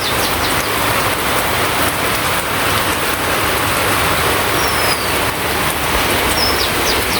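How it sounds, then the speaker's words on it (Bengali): Heavy rain pouring down in a Bangladeshi village, a loud, dense and continuous hiss of downpour with no letup. "কি একটা অবস্থা বৃষ্টির"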